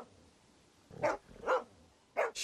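In The Walking Dead Season Two video game, a dog lets out three close, sharp barks, two in quick succession and then one after a short pause, over a quiet background.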